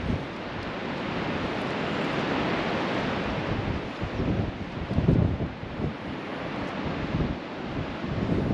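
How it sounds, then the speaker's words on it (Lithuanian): Strong wind roars across a cloudy, misty mountainside with steady broadband rush and buffeting gusts on the microphone, with no talking. "Bet ir ten yra vėjas."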